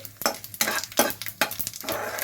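Cumin seeds frying lightly in a pan, heard as soft sizzling broken by several sharp stirring scrapes in an irregular rhythm, close and fairly quiet with no one talking.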